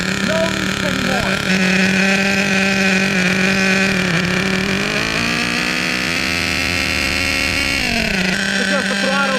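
Ofna Twin Titan RC car with dual 26 nitro engines running close by, a loud, continuous high-pitched buzzing drone with shifting pitch as the throttle changes, someone talking over it.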